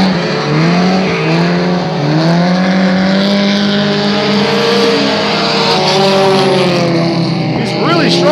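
Race cars roar past on a track, a dense, loud blend of high revving engines with rising and falling pitch as several cars go by close together.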